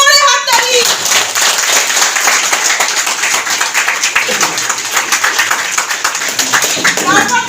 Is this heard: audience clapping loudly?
yes